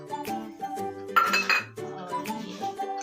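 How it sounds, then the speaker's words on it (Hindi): A spoon clinks and scrapes against a metal bowl while spices are stirred into the cauliflower filling for gobi paratha, with short irregular taps and rattles, close and clear. "अब हम इसमें ये मसाला जो रखे थे वो भी मिला देते हैं।"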